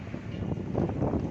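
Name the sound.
strong wind blowing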